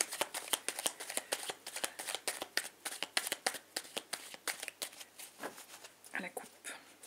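Tarot cards shuffled and cut in quick, crisp riffling bursts that run nearly continuously at close range, with a voice speaking over them.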